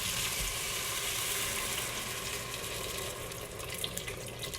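Beef stock poured into a hot Instant Pot to deglaze it: a loud, close, steady rush of sizzle and bubbling that eases slightly toward the end, with no voices.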